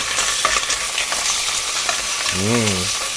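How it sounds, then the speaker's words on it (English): Continuous crackling sizzle of clams cooking in a hot pan, fairly close, with a brief low tonal hum rising and falling near the end. "You see that shit sizzling?"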